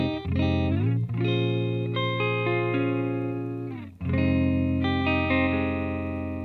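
A satin cherry Gibson ES-335 electric guitar on its neck pickup rings out clean through a 1969 Dual Reverb amp with no delay, sounding sustained chords that are restruck several times and decay slowly, alone and fairly loud.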